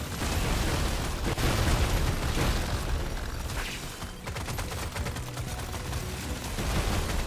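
Rapid, dense gunfire rattles almost continuously in the sci-fi shooter Deep Rock Galactic: Survivor, a loud fusillade of overlapping shots with booming impacts and brief dips in intensity.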